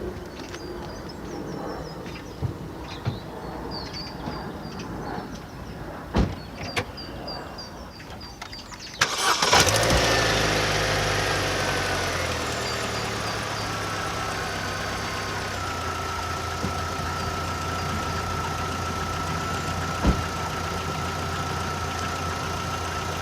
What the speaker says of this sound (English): Now this engine runs perfectly and it starts on the button, no problem at all there.